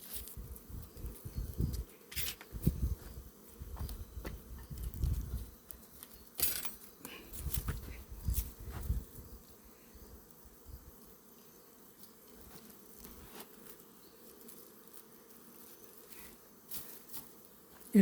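Honeybees buzz at a beehive during feeding management, a soft continuous hum with louder bursts as bees pass close, mixed with handling noises and faint rustling.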